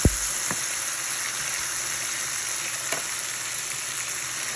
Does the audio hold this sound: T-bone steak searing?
yes